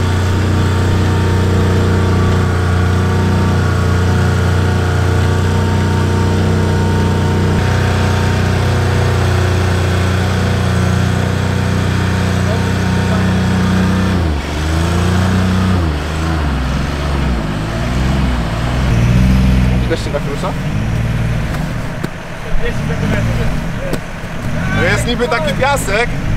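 A large tractor engine runs and pulls under load, a loud continuous drone with rising and falling revs in its second half as it strains, with people talking over it.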